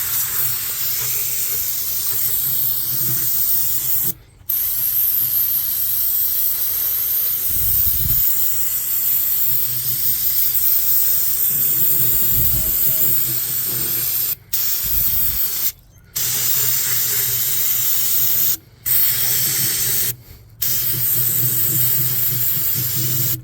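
Aerosol cleaner cans spraying onto the 6.3-litre M156 V8 engine of a Mercedes CLK63 AMG convertible, a loud continuous hiss running for long stretches, broken by a few short pauses between bursts.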